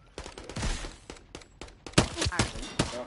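Call of Duty gunfire: rapid bursts of automatic fire and single shots, loud and close, coming in uneven clusters with brief gaps between them.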